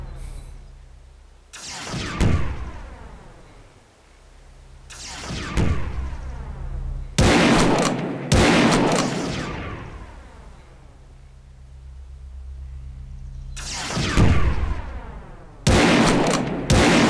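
Loud shotgun blasts in the game Realms of the Haunting, five or six sharp booms spaced a few seconds apart, each with a short decaying tail over a low background hum.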